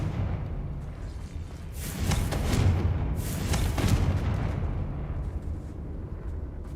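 A Confringo explosion spell in the Hogwarts Legacy video game: a rumbling blast swells, followed by a second burst, both with a deep boom and crackling debris over a steady low roar.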